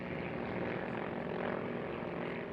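A P-51 Mustang propeller fighter plane at a flight museum gives a steady, loud engine drone that holds evenly for a few seconds with no talking.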